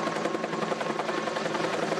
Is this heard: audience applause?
no